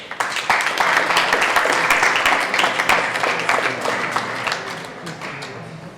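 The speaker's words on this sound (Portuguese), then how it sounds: "Uma salva de palmas para a Fátima Barroso." An audience at an urbanism talk in Braga, Portugal, breaks into loud, dense applause that holds steady for several seconds before gradually thinning out.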